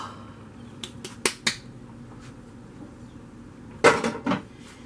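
Cooked spaghetti squash being set back into a baking dish, a few sharp clinks and knocks of dish and utensil, then a louder clattering cluster near the end, fairly close.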